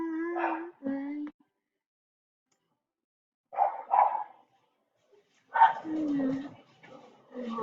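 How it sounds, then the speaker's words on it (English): Several dogs bark in short bursts, loud and close, with whimpers and yips between them, then a gap of near silence before more barking returns. "sorry guys, that's my dogs!"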